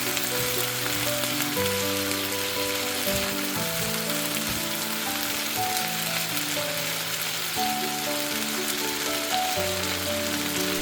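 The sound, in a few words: stir-frying fried dumpling wrappers with cabbage in a pan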